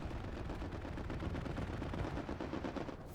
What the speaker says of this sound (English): Strafing run coming in.